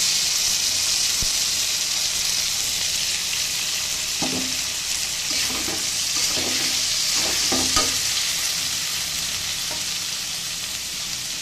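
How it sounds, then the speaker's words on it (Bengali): Green plantain and eggplant fry in oil with white sesame paste, a continuous hissing sizzle with several soft spoon-stirring scrapes in the middle. "কাঁচকলা বেগুন কিন্তু প্রায় ভাজা হয়ে আসছে, একটু ভাজা হয়ে গিয়েছে।"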